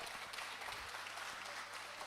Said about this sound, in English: Give a round of applause for my colleague, Mr. Davidson, man.